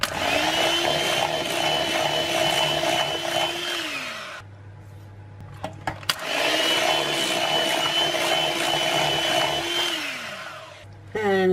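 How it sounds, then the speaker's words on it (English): An electric hand mixer whisks sweetener into ricotta cheesecake batter in two loud, steady whirring runs of about four seconds each, with a brief pause and small clatters between them. "So just whisk in 1 tablespoon at a time."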